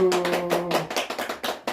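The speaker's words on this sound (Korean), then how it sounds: "박수!" A small group at a New Year gathering in Jeongdongjin claps in a quick, rhythmic run of close handclaps, after a short stretch of voice at the start.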